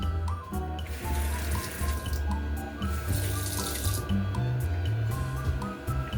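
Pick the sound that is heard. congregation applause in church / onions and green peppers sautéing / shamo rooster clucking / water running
water running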